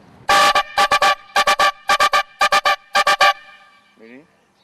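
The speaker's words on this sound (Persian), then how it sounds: "این بوق واقعا بوقه" A football fan's horn blown at a stadium, loud and near in a rhythmic pattern of seven short honking bursts grouped in pairs, followed by a brief voice.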